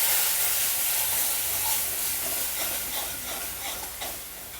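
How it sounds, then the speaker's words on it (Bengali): Spices frying in a pan with a little water added, giving a steady loud hiss and sizzle of steam that holds even throughout, with no voices. "এবার সামান্য ভেজে নেব। একটু জল দিয়ে দিচ্ছি, নাহলে মশলাটা পুড়ে যাবে।"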